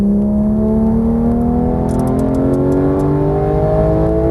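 A Porsche GT3 on a Las Vegas race track pulls hard onto the throttle, its engine note climbing steadily and loudly close by, alone without talk.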